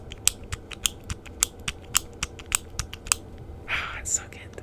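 A fidget cube clicks in sharp, crisp bursts at a fairly even pace, about a dozen close clicks, with a brief soft rustle near the end.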